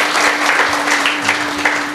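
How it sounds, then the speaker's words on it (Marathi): Applause from a kirtan audience for the pakhawaj player, a steady wash of many hands clapping close by, continuous and fairly loud, with a faint sustained tone running underneath. "टाळ्या वाजवा एकदा त्याच्यासाठी"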